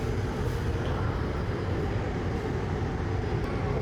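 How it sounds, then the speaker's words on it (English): Chinese high-speed bullet train at Jinhua South station, a steady loud broadband rumble and whoosh lasting throughout with no distinct events, close and continuous. "This is China bullet train."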